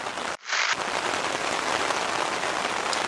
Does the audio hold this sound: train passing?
no